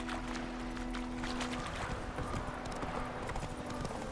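Hooves of the horse Roach clip-clop at a steady gallop in The Witcher 3, a rapid continuous rhythm over faint game ambience.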